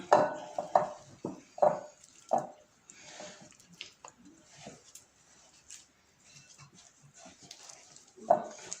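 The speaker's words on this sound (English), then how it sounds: "Butter and sugar, got a spread as well because I run out of butter, and just mix it together." Firm butter, with some spread added, is mixed into sugar in a bowl, giving a run of rhythmic scraping and knocking strokes that fade to softer movement, then one more stroke at the end.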